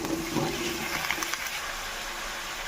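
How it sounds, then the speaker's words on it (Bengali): Raw tomatoes dropped into hot oil in a pan already holding eggplant, giving a steady, fairly loud rushing sizzle with no talk over it. "এবার আমি কাঁচা টমেটোগুলো এর মধ্যে দিয়ে দেব।"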